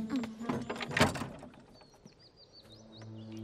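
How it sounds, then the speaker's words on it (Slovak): A door swings shut with a short thump amid rustling and movement, followed by faint bird chirps and quiet ambient tones, without any voices. "Heidi, vráť sa dnu a zatvor dvere."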